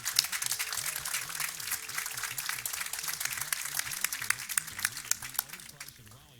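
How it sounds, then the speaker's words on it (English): A large audience at a university commencement applauds steadily for several seconds. The clapping is dense and sustained, with a low murmur of voices beneath it, and it eases slightly toward the end. "Let's give them a round of applause."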